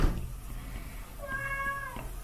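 A cat lets out one drawn-out meow, fairly clear and close, over a low background hum with no speech.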